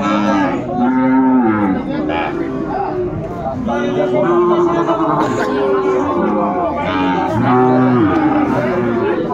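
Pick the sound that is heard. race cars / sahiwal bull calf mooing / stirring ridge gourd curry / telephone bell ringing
sahiwal bull calf mooing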